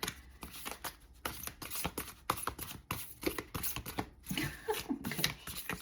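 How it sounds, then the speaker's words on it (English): Round playing cards shuffled by hand in a rapid run of crisp, papery riffles and taps, close and fairly quiet, with no talk. "these are not any easier to shuffle"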